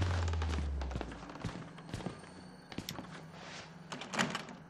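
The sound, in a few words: doors being tried but not opening in video game Outlast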